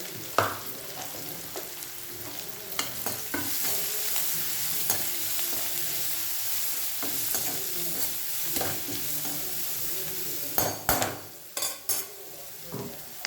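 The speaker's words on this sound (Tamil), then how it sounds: "நல்லா வதங்கட்டும்." Plantain podimas with turmeric and salt sautés in a pan, a steady close sizzle and fry broken by sharp scraping clicks of a spoon stirring against the metal, busier toward the end.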